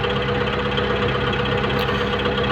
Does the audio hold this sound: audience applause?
no